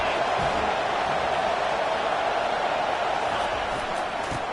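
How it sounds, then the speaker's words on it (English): A college football video game crowd roars as a steady, dense, wide wash of noise, loud and unbroken for the whole span, with commentary faintly under it. "listen to this crowd roar"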